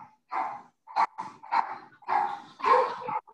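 Several dogs bark in quick, excited bursts at someone on a front porch, fairly close but moderate in level, with short gaps between the yips and barks.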